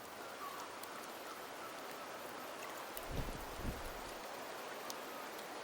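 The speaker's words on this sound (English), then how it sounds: "The rains in Septimont never seem eager to leave this season." Steady rain falls in the video game Wuthering Waves, a soft continuous hiss of drops with a couple of brief low thumps near the middle, no voices.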